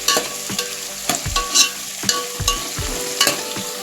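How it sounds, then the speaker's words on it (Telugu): Mint leaves frying in a pan for chicken pulao, a constant close sizzle broken by regular knocking scrapes of a spoon stirring against the metal, roughly every half second, with no talking. "కొంచెం పుదీనా బాగా కలుపుకోవాలి. బ్రౌన్ అయ్యేదాకా కలుపుకోవాలి."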